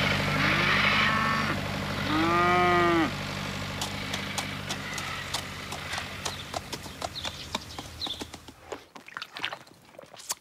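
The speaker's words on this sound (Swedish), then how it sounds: "skulle släppa sina kor över vägen här nere" Cattle moo on a farm as they are let out across a road, with long drawn-out calls up close early on, followed by a patter of hooves clattering on the road surface.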